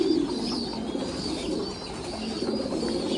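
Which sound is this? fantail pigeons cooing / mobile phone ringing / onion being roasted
fantail pigeons cooing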